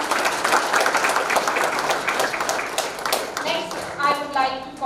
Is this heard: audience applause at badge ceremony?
yes